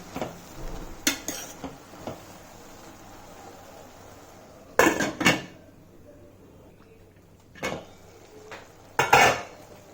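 Tamarind and tomato chutney being stirred in a metal pot, with scattered clinks and scrapes of a utensil and a few louder clattering bursts like a lid being set on, separated by quiet pauses.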